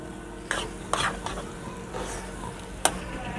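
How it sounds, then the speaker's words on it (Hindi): Spoon stirring dal halwa with pistachios and almonds in a pan, giving a few scraping strokes and soft taps over a light sizzle, close and moderately quiet, ending with one sharp clink. "इसको अच्छी तरह मिक्स कर देते हैं।"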